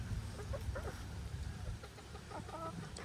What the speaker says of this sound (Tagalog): Tapos dito yung mga manok.